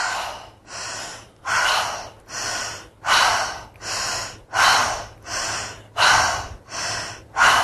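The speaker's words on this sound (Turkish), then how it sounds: "Ağızdan bağlantılı nefesler alıp vermeye başlıyoruz." Connected breathing in and out through the mouth: about a dozen loud, close breaths in a steady, even rhythm, each a breathy rush with short gaps between, and no talking.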